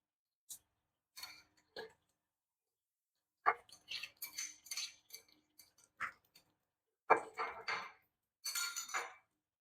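A spoon clinks and scrapes against a pot while stirring cucumber stew, coming in short, separated bursts of metallic knocks with quiet gaps, near and fairly crisp.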